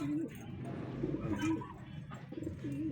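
Soft, low pigeon coos repeat in short rolling phrases, fairly close, with some background noise and a voice murmuring underneath.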